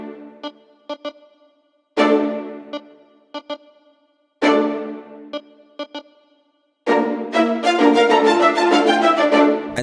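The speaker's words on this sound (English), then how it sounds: "next element that we have is a lead sound from Triton." A bright synth lead patch from a Korg Triton plays a short melodic riff: staccato clusters of notes alternating with longer sustained phrases, building to a denser passage at the end.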